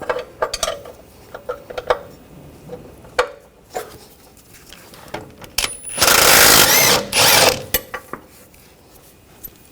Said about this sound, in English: using a 21mm socket, we're going to take this bolt out